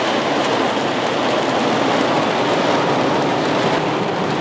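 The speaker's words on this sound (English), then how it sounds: "I'm just gonna hang out in the storm. I don't know, I just felt the need to do it. It's starting to whip out there." Storm rain and wind-driven surf on a Gulf of Mexico shore form a steady, dense roar with no break, loud and close, and no voices.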